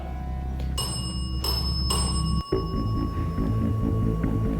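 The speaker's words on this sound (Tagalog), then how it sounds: "Yung dead bell, pwede nyo pong itap." A ghost-hunting dead bell device in an abandoned hospital rings out with several bright, sustained metallic chimes, struck repeatedly near the start, over a steady low background hum, with a sudden brief dropout midway.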